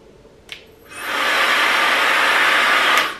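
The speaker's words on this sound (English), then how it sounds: "Okay, here is the blow dryer." A Laifen Retro hair dryer clicks on and blows a steady, loud, close rushing whoosh of air that holds evenly for about two seconds, with no talking.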